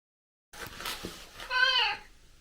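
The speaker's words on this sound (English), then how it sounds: "So this is the new cat." A starved, blind rescued cat gives one drawn-out, wavering meow after a moment of silence, close and fairly loud, rising into a strained cry before trailing off.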